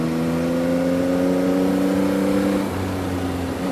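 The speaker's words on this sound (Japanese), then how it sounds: "せっかくですから少しギアを落としてエンジン回してみたいと思います。" A Yamaha MT-09 motorcycle engine revs hard after a downshift into fourth gear on a winding mountain road, a loud, steady, close drone that dips slightly in pitch near the end.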